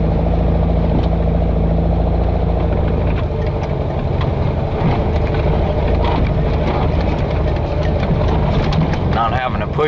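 An off-road 1969 Baja buggy with dual Dellorto 36 carburetors rolls through woods on big, low-pressure tires, its engine droning loudly and steadily up close with wind buffeting and scattered clatter, while the driver talks over it.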